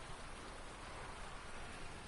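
Steady rain falls in a farming video game, a dense, even hiss of drops on surfaces that fills the whole moment with no voices.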